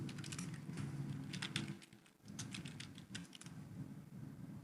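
Quiet, steady typing of a short line of Python code on a computer keyboard, with irregular light key clicks over a low background hum.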